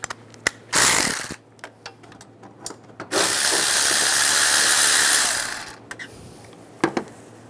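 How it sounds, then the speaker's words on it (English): A ratchet with a 13mm socket turns a bolt out of the thermostat housing on a 1998-2010 Volkswagen Beetle, giving short clicking bursts and a longer steady run of ratcheting, close and fairly loud. "So we'll take this bolt out using the 13mm socket."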